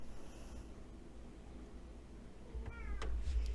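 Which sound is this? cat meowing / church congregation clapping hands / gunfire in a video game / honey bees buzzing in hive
cat meowing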